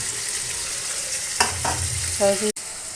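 A spoon stirs tomato pieces with ginger garlic paste and fried onions in a hot pan for a fish curry, giving a continuous close sizzle broken by a few scraping strokes and a sharp clink near the end.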